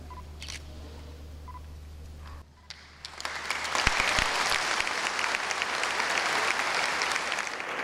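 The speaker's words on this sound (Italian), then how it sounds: "Un applauso lungo e scrosciante" Applause swells after a brief hush and keeps going steadily, a large crowd clapping in a big echoing cathedral at a new bishop's installation, with a few camera clicks at first.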